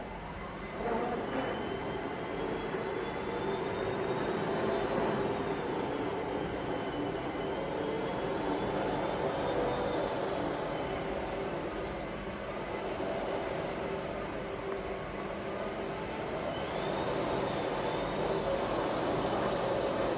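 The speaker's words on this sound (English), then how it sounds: "I press the foot brake slowly, and the motor is running well." Electric motor of a 15-ton electric truck with a 4-gear AMT running on test, a steady whining drone with a faint high tone and slowly rising pitch lines, continuous and even throughout.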